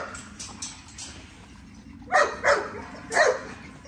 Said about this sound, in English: These Frenchies fight more than any dog ever.